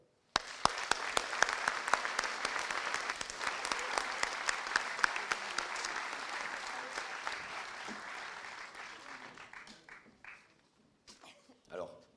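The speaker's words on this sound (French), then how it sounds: "On peut les applaudir." An audience applauds at length, a dense burst of many hands clapping that starts abruptly, stays strong for several seconds, then thins out and fades to scattered claps near the end.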